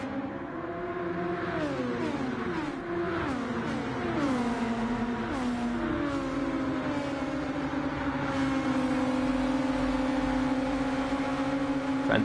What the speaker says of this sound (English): Fantastic noise these cars make as well. Buzzing Hornets.